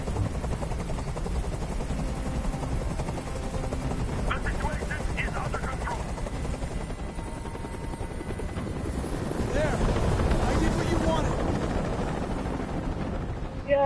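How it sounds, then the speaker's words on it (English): Steady loud helicopter rotor drone throughout, with scattered bursts of gunfire and voices shouting beneath it. "Tell that helicopter to get out of here."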